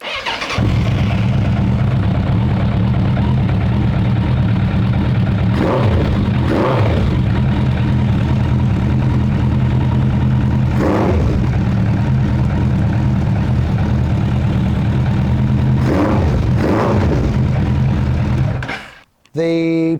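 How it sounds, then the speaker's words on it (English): Custom Softail motorcycle fitted with a Suzuki Bandit 1200 engine idling steadily at close range for nearly twenty seconds, with a few brief blips of the throttle, then cutting off at the end. "I'm going to fire it up now"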